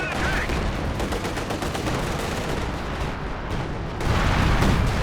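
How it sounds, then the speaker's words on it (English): Werfer rocket artillery barrages pound a battlefield in the WWII strategy game Company of Heroes 2, a dense, continuous roar of rapid blasts and crackling impacts that swells louder near the end. "He's just not getting that lucky with the scatter on those Werfer barrages."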